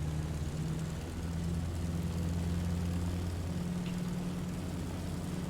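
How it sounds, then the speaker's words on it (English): B-25 bomber propeller engines in the game Stormworks during a runway takeoff, a loud continuous droning hum with steady tonal pitch that holds and shifts slightly throughout, with no speech. "Not the greatest runway takeoff, but it worked."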